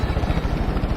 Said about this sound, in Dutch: Oh, helikopter.